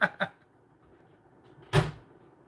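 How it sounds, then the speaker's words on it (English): Cabinet doors in a kitchen knock as cats push through them, two quick close thumps followed after a pause by a single louder bang, with quiet in between. "the cats get in the cabinets all the time and make them make noises and freaks me out"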